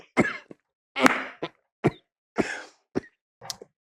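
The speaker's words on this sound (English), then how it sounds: "I'm trying not to cough" A series of seven short, sharp coughs spaced in quick succession, close and fairly loud, with silence between them.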